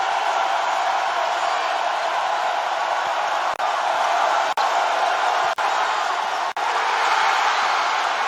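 A college basketball arena crowd roars during a full court press in a Virginia Tech versus Clemson game, a loud sustained wall of cheering with a few brief dropouts.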